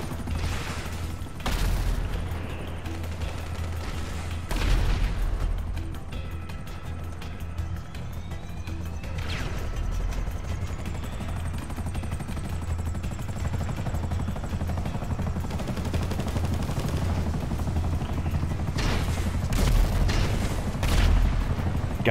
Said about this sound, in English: Alright, I'm hitting the other chopper.